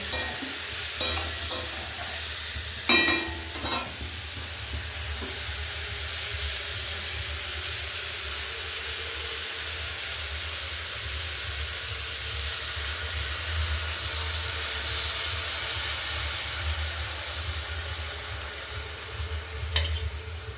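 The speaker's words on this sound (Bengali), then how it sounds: "এখন গ্যাসের ফ্লেম কিন্তু হাই ফ্লেম করে এটাকে ফুটতে দিতে হবে" Jaggery water with plum pickle boils hard on a high gas flame, giving a continuous bubbling hiss and sizzle, with a few stirring knocks near the start and end.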